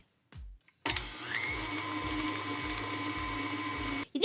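An electric mixer blending eggs into a cream cheese and cottage cheese cheesecake batter: a brief bump, then the motor starts abruptly and whines steadily for about three seconds before cutting off, with faint rhythmic thumping beneath.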